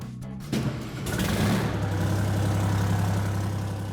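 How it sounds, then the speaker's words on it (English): An Oliver Super 99 tractor engine runs steadily at a low, throbbing idle, close and loud throughout with no talking. "we're gonna head to Illinois and we're gonna check out an Oliver Super 99"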